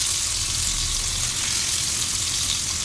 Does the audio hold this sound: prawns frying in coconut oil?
yes